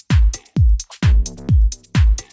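Short open hi-hat sample with a shortened transient, edited in a music production session, played as five evenly spaced crisp hits about half a second apart, each with a tight, quickly choked decay.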